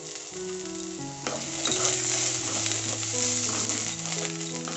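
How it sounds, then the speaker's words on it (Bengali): Mixed vegetables are stir-fried in oil for a vegetarian pulao, a loud continuous close sizzle with stirring, over faint steady background music and no talking. "সব সবজিগুলোকে এবার খুব ভালোভাবে একটু নেড়ে চেড়ে ভেজে নেব"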